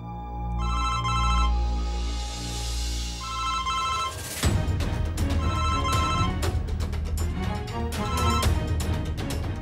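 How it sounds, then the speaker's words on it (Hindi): A telephone rings repeatedly with a bright electronic tone, then breaks into a busier ringtone pattern that keeps going. "कौन बार बार फोन किए जा रहा है?"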